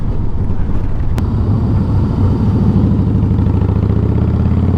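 A Harley-Davidson Heritage Softail motorcycle engine runs near and loud at a steady idle, with a low, even, pulsing rumble throughout.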